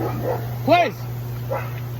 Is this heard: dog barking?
yes